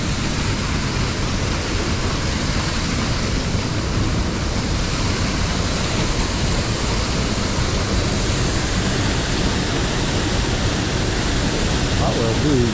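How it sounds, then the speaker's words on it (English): A steady, dense roar of falling water from Greer Creek Falls fills the whole clip, loud and constant with no breaks, like standing near a rushing cascade. "Fair amount of water coming down on this one."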